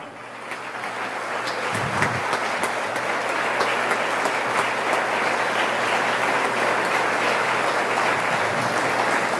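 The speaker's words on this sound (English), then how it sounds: "I would like for you to give an applause to all the workers of the Port of Stockton" Audience at the 2017 Stockton State of the City event applauding the Port of Stockton workers: a loud, dense, steady wash of clapping from many hands that fills the whole stretch without letting up.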